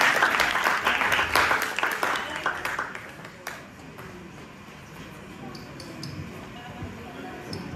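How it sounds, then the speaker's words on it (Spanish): Applause from an evening gathering with musicians, dense clapping for about three seconds that thins out and fades into low room noise with scattered claps. "felicitaciones y un aplauso para todos ustedes"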